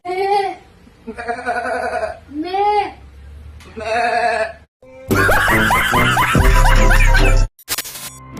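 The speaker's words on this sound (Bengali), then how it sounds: "ভিডিওটি শুরু করছি অস্থির এক ছাগল আর ছাগিকে দিয়ে" Goats bleat in several loud, wavering calls separated by short pauses, followed by a dense burst of overlapping shrill cries and clatter at close range.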